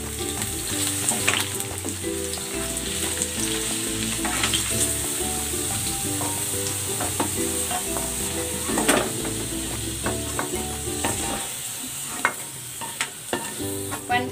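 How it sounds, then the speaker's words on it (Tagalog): Potatoes and carrots fry in cooking oil for chicken afritada, a loud continuous sizzle with intermittent scrapes and clatter of stirring in the pan, close up with no talking. "Ipiprito ko muna itong patatas at ang carrots."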